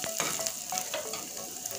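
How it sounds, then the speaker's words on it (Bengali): Crushed garlic frying in hot tempering oil, a continuous close sizzle with light crackles and occasional stirring taps, no voices. "রসুনটা লাল করে ভেজে নেব।"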